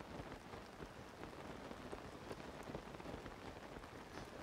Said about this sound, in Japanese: 雨降ってるし